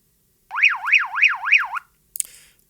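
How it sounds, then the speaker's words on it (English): A Baofeng UV-5R handheld radio's personal alarm warbles, rising and falling in five quick sweeps, then stops, followed by a brief clatter. "And also if you hold it down you have a personal alarm."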